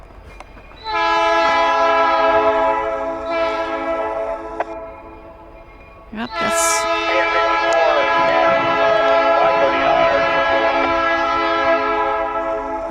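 A freight train passes at a rural crossing at Dault's Creek near Ishpeming, its horn blaring loud and sustained for long stretches with a brief gap, rail noise running beneath, and a short spoken word at one point.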